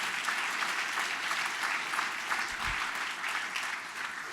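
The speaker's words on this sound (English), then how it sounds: "Hey, if you want to applaud, you can, all right?" Applause from the audience at an executive speaker series event, a steady crowd of clapping hands sustained evenly throughout, fairly loud with no talk over it.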